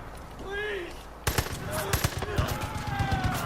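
A turret gun fires rapidly in the video game Far Cry 5, a dense run of sharp automatic bursts that starts abruptly after a moment of quieter ambience and keeps going loud and close, with a voice briefly heard before it.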